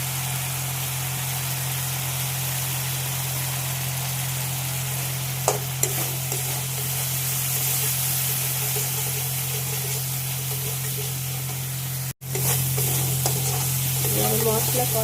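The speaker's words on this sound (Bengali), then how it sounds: "মশলা কষানো হয়ে গেছে" Whole garam masala, bay leaf, dried chilli and turmeric sauté in hot oil with a continuous sizzle, occasional stirring scrapes and a low steady hum underneath; no one speaks.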